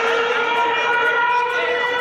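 Civil defense siren wailing steadily during a district mock drill, a loud continuous tone held throughout, with faint voices in the background.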